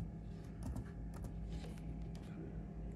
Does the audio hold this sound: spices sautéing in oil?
no